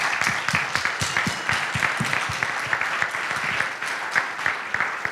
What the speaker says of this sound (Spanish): Quiero empezar pidiendo un gran aplauso para el equipo de la Nación y la Universidad Austral